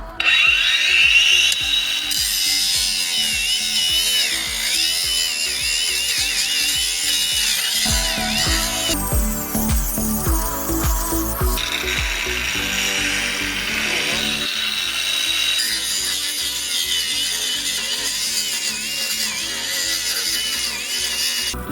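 Grosser GAG 20 120N cordless angle grinder running at first speed, a loud continuous whine with grinding rasp close up, tone shifting as the disc bites and eases off the work.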